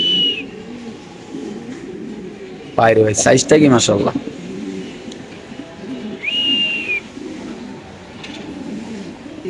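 Large Bukhara pigeons coo low and continuously at a pigeon farm while someone talks loudly nearby, with a few high whistling bird calls heard briefly.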